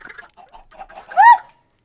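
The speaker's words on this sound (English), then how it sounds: "Oh, now we have four more outdoor chickens!" Chickens in Minecraft give short, scattered clucks, then one louder, clear squawk near the end, heard close with no talking.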